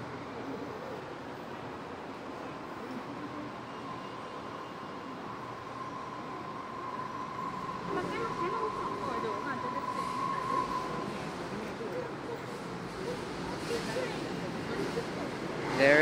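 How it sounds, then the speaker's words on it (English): A train pulls into a station with a steady, fairly faint rumble and a long high metallic squeal in the middle. A voice is heard over it. "There it is, the train."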